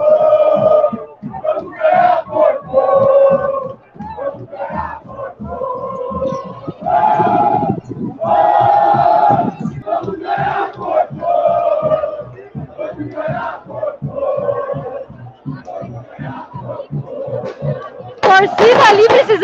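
Palmeiras football supporters crowd around the team bus in São Paulo before a final against Flamengo, chanting loudly and rhythmically in a dense, continuous mass of voices, with sharper shouts near the end.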